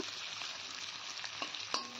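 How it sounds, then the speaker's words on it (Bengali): Onion frying while stirred in a pan for a taro-stolon fish curry, with a dense, close hiss of oil and a couple of soft spatula knocks near the end, no voices. "তো নেড়ে চেড়ে পেঁয়াজটা কিছুক্ষণ ভেজে নিলাম।"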